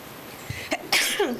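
A single sneeze during a Planning and Zoning Board meeting, a quick breathy intake and sharp burst heard up close in a quiet room, followed by a brief voiced trailing sound.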